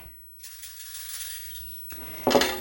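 Silicone and stainless steel utensils from a 13-piece kitchen set, including tongs, a whisk and spatulas, clink and clatter against each other in a few close, bright metallic knocks and rattles with no talking.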